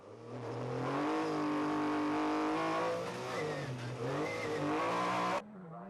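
A Ford Escort World Rally car's engine roars loud and close throughout a rally stage, revs rising and falling through gear changes with brief tyre noise, before cutting off sharply near the end.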